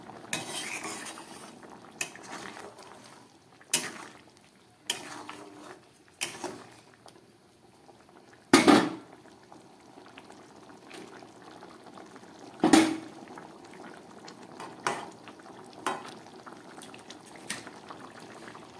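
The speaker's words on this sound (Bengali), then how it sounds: "তরকারিটা ফুটে উঠেছে" A prawn and potato curry bubbles in a pot, a low, steady simmer punctuated by sharp metallic clanks of a utensil against the pot and occasional stirring, all close by.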